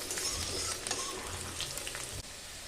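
Chopped garlic fries in hot oil with cumin and mustard seeds as a pan is gently stirred, a close, continuous sizzle with soft scraping strokes before the sound drops off abruptly.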